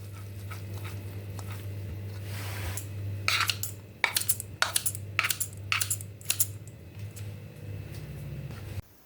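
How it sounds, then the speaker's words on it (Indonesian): Scissors snip through softened, rinsed glass noodles in a home kitchen: a run of sharp, close cuts in quick succession over a steady low hum. "supaya tidak terlalu panjang, digunting-gunting."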